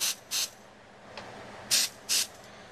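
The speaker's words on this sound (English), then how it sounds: "I'm going to take this Beauty Secrets nail polish dryer, and I'm going to go ahead and spray her big toe." A Beauty Secrets nail polish dryer spray hisses in four short bursts during a pedicure, two quick sprays, a pause, then two more, close and fairly quiet.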